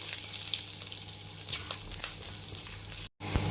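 Ginger and garlic fry in butter with a little oil for a sprouted bean dish, giving a steady close sizzle with a brief dropout near the end.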